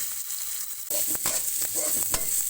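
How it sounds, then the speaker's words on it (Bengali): Chopped onion and green chili frying in hot oil with cardamom, cinnamon and bay leaf, a loud steady sizzle that jumps up partway, broken by scraping stirs of a spatula. "এখন এই তেলের মধ্যে এলাচ দারচিনি তেজপাতা ফোড়ন দিয়ে দিব পেঁয়াজ কুচি আর মরিচ দিয়ে ভালো করে ভেজে নিব"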